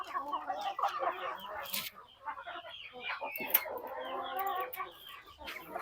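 Native chickens cluck and chatter together in a farm ranging area, a busy overlapping flock sound with a faint voice in the background.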